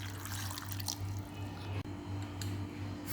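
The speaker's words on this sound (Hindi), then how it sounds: "अब हम इसके अंदर 1 कप पानी डाल देंगे।" A cup of water pours into a saucepan of raw mangoes on a kitchen stove, giving a close, steady splashing wash over a constant low electrical hum, with no talk.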